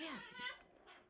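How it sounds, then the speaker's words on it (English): A pet cat gives a brief stretching vocalisation, a short strained mewing sound rising then falling, close and fairly quiet, lasting about a second with a faint trailing breathy tail. "that was my cat just stretching"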